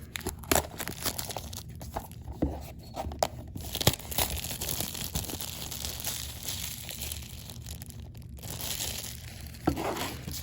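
Plastic film being cut and peeled off a Havit H1103A smartwatch box, close crinkling, tearing and crumpling that runs almost continuously, with sharper snaps scattered throughout.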